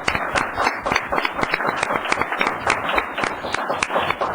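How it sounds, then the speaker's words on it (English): A town council meeting audience gives a round of applause for CERT members: a lively, fairly close burst of distinct hand claps, steady and moderately loud, continuing with no voices. "your town council would like to give you a round of applause"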